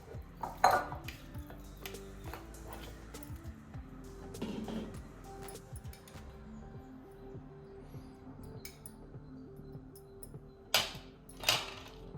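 A utensil clinks and scrapes against a bowl while chicken is mixed with turmeric, red chilli powder, ginger garlic paste, salt and yogurt for a marinade; sparse, fairly quiet knocks with a few sharper clinks near the end and no talking.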